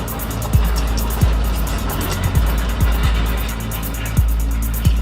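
A bulldozer's two-shank ripper grinds through the earth with a heavy, continuous engine rumble, broken by repeated scraping knocks against rocks at irregular intervals, loud and close.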